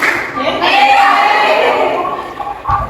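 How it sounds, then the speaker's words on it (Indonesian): Children in a classroom play a rhythmic hand-clapping game, bursts of claps in a steady pattern mixed with chanting voices, fairly close and loud. "tepuk malam, tepuk siang, tepuk pagi, tepuk pagi, tepuk siang, tepuk malam"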